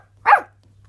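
A police dog gives a single short, sharp bark, close and loud against an otherwise silent background.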